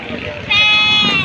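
A Boer goat bleats once, a loud, wavering cry rising over the chatter of a busy goat auction at Padre Garcia, Batangas, with people talking throughout.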